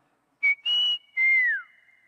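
A person whistles an imitation of a forest bird's call: three clear, close tonal notes in quick succession, the last one sliding downward, heard alone against silence.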